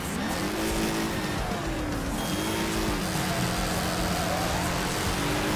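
Race cars start off together in Wreckfest, a dense, loud roar of engines revving and rising in pitch, with tire noise and a continuous wash of motor sound throughout.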